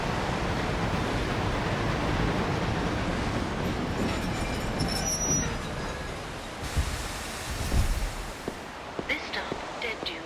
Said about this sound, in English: Are you taking the train?